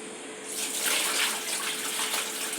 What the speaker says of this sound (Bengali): এখানে দেখো জল নিয়ে চলে এসছি রান্নাঘরে একটুখানি জলটা ঢেলে দিই